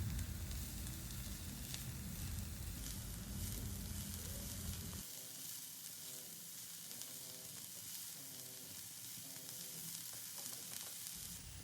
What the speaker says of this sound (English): We will now saute them for 2 minutes or so on medium flame